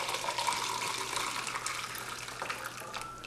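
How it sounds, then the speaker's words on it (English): THC-infused liquid is poured through a makeshift strainer, giving a steady, fairly faint trickling and splashing stream with no talk over it. "We're just gonna pour this bad boy right in."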